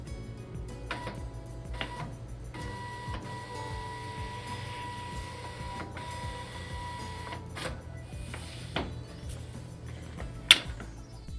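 A Zebra ZT411/ZT421 label printer runs auto calibration, giving a quiet mechanical hum with intermittent ticks, short whirs of the label feed and a small sharp click near the end.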